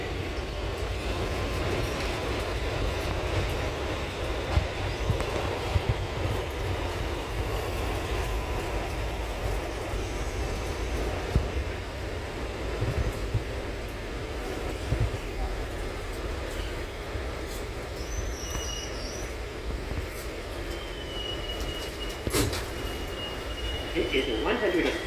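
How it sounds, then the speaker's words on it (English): An R211T C local subway train bound for 168th Street rumbling along with steady low noise and occasional rattles and squeals, while people talk faintly in the background. "This is a 168th Street bound C local train."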